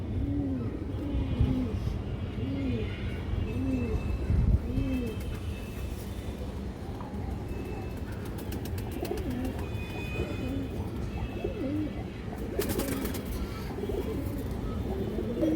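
Domestic pigeons, including khaki, silver and brown-necked birds kept for sale, coo steadily in soft repeated phrases close by, over a constant low background hum.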